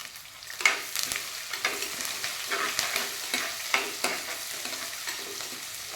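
Onions with green and dried red chillies sauté in oil in a pan, a continuous sizzle broken by repeated scraping stir strokes that recur every second or so, with no voices.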